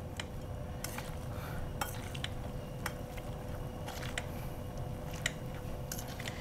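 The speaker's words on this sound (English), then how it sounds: "We're gonna smash our carrots." Braised carrots being smashed in a pot, heard as soft, intermittent metal-on-pot clinks and squishy taps, quiet and close with no talking.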